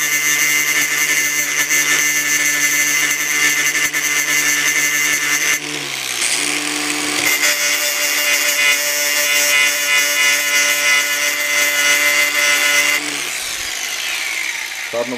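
An angle grinder whines loudly and continuously, its pitch dropping briefly twice as the disc bites into the material, grinding down a screwed-in part on an RC truck build.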